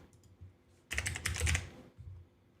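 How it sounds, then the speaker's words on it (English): A search term is typed on a computer keyboard, a short burst of quick key clicks lasting about a second, close and crisp, between quieter moments with faint background noise. "If I type in Spock"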